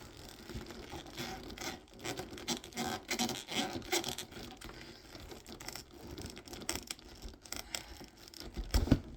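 Leather thong being dragged hard through the base of a leather tote bag, a continuous scratchy rasping with irregular tugs that grows louder toward the end, close and alone.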